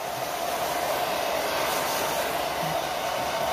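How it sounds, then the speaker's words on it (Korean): A hair dryer blows a steady, loud stream of air throughout, close by and continuous with no talking. "헤어드라이 방향 팁이 있을까요?"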